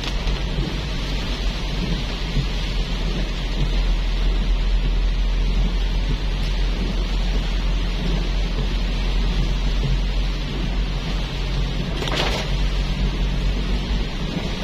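Morning rain on Jalan Pierre Tendean Boulevard in Manado, a continuous dense hiss of rainfall on the city street with a low rumble beneath and a brief brighter burst late on.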